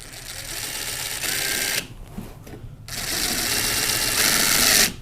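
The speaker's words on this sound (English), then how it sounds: "carefully put a screw in through here" Drywall screw being driven by a power driver into a hollow core door under repair, a close, steady whirring run that breaks off briefly and then resumes.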